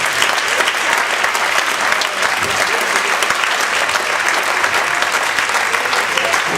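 Spectators at a dance skating final announcement applaud the qualified skaters with loud, continuous clapping from a large crowd, even and sustained in a reverberant rink.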